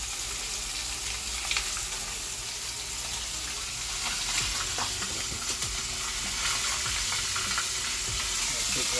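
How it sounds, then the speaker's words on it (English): Fish frying in hot oil on a stove turned down, a steady close sizzle and crackle throughout with occasional brief clicks, no talk. "Let him fry in there, you know."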